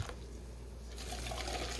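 Hot boiling water poured into canning jars for salsa, heard as a steady, close, liquid pouring and filling rush that continues throughout, with no talk over it.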